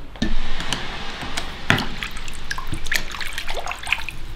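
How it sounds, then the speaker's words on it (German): A degreased steel part is dipped into a water bath during a home bluing process, giving close trickles, drips and a splash partway through, with small splashing sounds scattered across the rest of the clip and no talking. "Ins Wasser damit."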